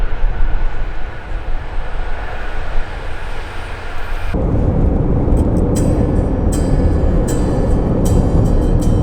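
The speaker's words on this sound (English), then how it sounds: "Oh yeah, there's a train." A loud train rumbles past close by at Arthur's Pass, New Zealand, its steady roar jumping louder midway, with sharp metallic clacks from the wheels on the rails.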